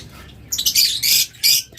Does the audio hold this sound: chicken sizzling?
no